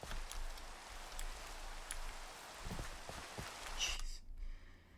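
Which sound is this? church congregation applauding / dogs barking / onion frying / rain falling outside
rain falling outside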